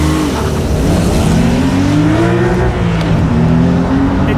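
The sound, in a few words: Porsche 911 Carrera T accelerating hard, dumping the clutch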